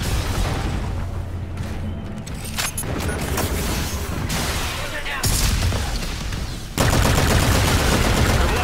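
Automatic fire from the Volk, an AK-47 variant rifle with no attachments, in a first-person shooter video game: loud dense bursts of rapid gunfire with bursts starting and stopping, close up, with a voice talking over parts of it.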